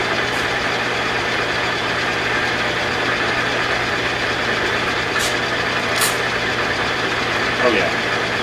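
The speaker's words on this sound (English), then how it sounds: "Let's go ahead and run flood coolant." A metal lathe cuts a part for a quick-change tool post T-nut while flood coolant runs, producing a steady, loud, unbroken mechanical drone with a hissing wash that holds evenly throughout.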